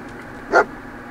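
A dog in the video game Fallout 4 gives a single short, clear bark that stands out over a quiet steady background hum.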